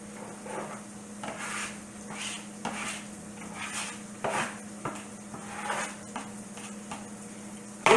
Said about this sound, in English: So I chopped up some onions and I'm finna add them to the meat.